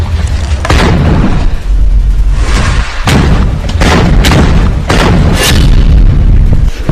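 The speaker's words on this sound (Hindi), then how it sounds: "जिसमें शुरुआत से पहला धमाका कंप्यूटर जनरेटेड ग्राफिक्स से दिखाया गया" A computer-generated explosion from a Hamas video comes through as a series of loud, heavy booms and blasts, one after another, densely layered and thundering throughout.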